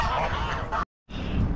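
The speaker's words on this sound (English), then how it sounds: "Been invaded by geese and whatever." Geese honking at a reservoir, a cluster of loud, close honks and squawks from several birds, cut by a brief silent gap before the calls resume.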